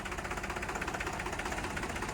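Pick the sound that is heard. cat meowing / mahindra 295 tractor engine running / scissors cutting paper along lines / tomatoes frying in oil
mahindra 295 tractor engine running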